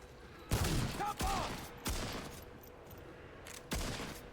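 Gunfire in the co-op shooter Remnant 2 on Hardcore mode: three sharp, loud shots spaced over a few seconds, each with a short reverberant tail, against a steady game background.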